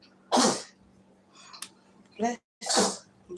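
Two abrupt, close sneezes about two seconds apart, each a sharp burst of breath, with a brief softer sound between them in an otherwise quiet room.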